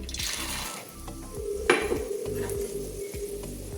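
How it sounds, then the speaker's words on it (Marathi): Peanuts frying in a wok of hot oil for bhadang chivda, producing a constant sizzle with stirring and a sharp metallic clank partway through, with a low hum behind it and no speech. "आपलं तेल तापलेलं आहे. आपण आता शेंगदाणे तळून घ्यायचे आहेत."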